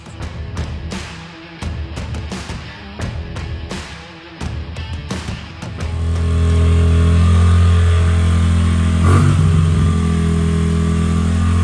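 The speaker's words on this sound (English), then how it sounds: "this is the high idle I was talking about. That is with throttle all the way forward." A 2005 Honda CRF50 small dirt bike engine idles roughly with sharp pops at first, then settles into a loud, steady high idle with the throttle held fully forward, close by.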